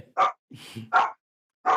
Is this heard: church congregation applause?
no